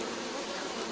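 Honey bees buzz densely at the hive, a continuous close swarm drone with no breaks, steady and moderately faint.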